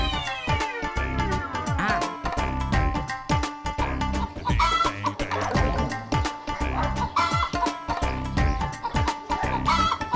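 Chickens cluck and squawk repeatedly nearby over a background of music with steady beats, the calls rising and falling throughout.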